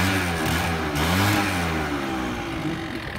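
An Explorer Race GT50 scooter engine revs hard at full throttle, a loud, steady, close-up mid-pitched whine that rises and holds for about three seconds with no talking.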